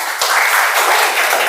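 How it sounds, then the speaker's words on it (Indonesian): A class claps hands together on cue, a short burst of close, loud clapping from several students. "Baik, tepuk tangan."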